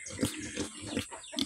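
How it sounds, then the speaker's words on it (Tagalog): Pigs grunt and snort in short bursts, three or four rough grunts close by with faint background noise. "Check naman natin itong alaga nating mga baboy."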